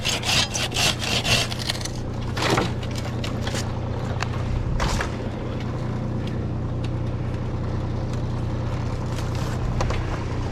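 A handsaw makes a break cut through a tree branch. Quick, rasping back-and-forth strokes come close at first, then give way to steady scraping against a low, constant background rumble.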